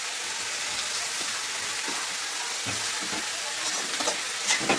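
Fish pieces cooking in oil over a low flame, a steady soft sizzle and hiss running evenly throughout with a few faint crackles near the end.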